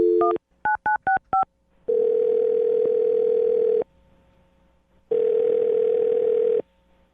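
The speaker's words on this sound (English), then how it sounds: "I'm going to dial her phone number right now and get her on the phone" A telephone call being placed: a rapid run of short touch-tone dialing beeps, then two long steady ringback tones separated by a pause, clear and close with no talking.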